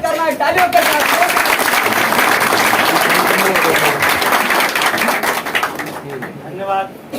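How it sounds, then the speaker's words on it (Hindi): A large crowd applauds loudly and steadily to welcome a speaker at a political rally in Maharashtra, the dense clapping holding for about six seconds before tapering off, with a voice rising over it near the end. "अच्छे साथ साहब का स्वागत करना है तालियों के साथ"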